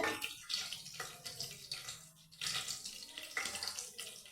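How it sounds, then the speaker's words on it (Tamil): Mustard seeds spluttering in hot oil while tempering for moong dal rice: a continuous close crackle and sizzle with sharp bursts of popping, heard alone with no talking. "கடுகு நல்லா பொரிய ஆரம்பிச்சிருச்சு"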